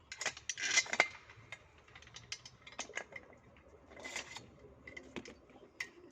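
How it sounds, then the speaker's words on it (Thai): Small metal parts click and ratchet as a nut is fitted and tightened onto a bicycle seat during assembly, a scattered series of sharp, close clicks separated by quiet gaps. "เบาะจะใส่น็อตตัวนี้"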